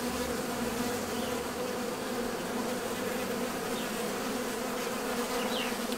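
Honey bees hum in a dense, continuous drone around an open hive during an inspection, close and steady with no voices.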